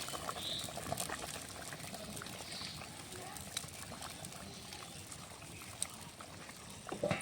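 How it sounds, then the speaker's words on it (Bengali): Rohu fish curry with radish and eggplant boiling in a pot, a soft steady bubbling and simmering murmur at low volume, with faint clicks and small sounds of kitchen movement. "এখন ভালো করে কিছুক্ষণ ফুটিয়ে নেবো"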